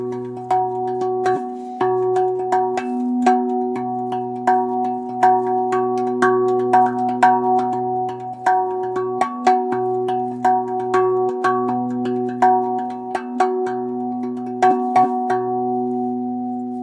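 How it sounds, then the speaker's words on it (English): Harmonics ring out from a RAV tongue drum, clear bell-like tones struck one after another in a steady, unhurried rhythm over a sustained low hum, played alone and close. "These harmonics allow you to add variety to your playing, even if you're just playing one note."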